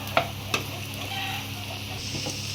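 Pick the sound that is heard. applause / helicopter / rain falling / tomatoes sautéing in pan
tomatoes sautéing in pan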